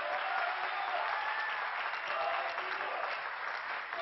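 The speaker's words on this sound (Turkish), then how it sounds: "Bir kocaman alkış daha kendisine." Steady, dense applause from an audience at a Turkish word-puzzle game show, loud and continuous for about four seconds with no break.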